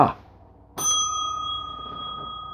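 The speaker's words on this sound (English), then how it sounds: "Somewhere in the distance, it's like a bell rings." A single bright bell dings once, its tone ringing on and slowly fading against a quiet background.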